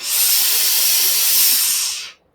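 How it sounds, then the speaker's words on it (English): A steam iron blasting steam onto sewn fabric, a loud, close, steady hiss lasting about two seconds before cutting off abruptly into silence. "So we steam it"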